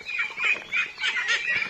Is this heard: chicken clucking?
yes